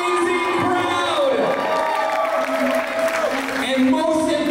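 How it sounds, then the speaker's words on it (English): A crowd at an engagement party claps and cheers continuously, with shouts and whoops rising above the applause. Voices call out over the steady, loud clapping throughout. "Ladies and gentlemen, give yourselves a big round of applause"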